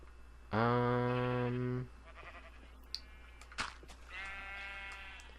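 Minecraft sheep bleating in the video game, one loud, drawn-out bleat followed by a fainter second bleat with a few soft clicks between.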